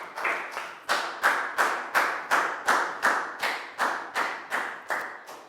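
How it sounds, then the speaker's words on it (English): In a classroom, a group of students clap together in a rhythmic pattern, about a dozen sharp, evenly spaced group claps ringing out close and loud, each one fading quickly. "Big round of applause for Bangpon, guys."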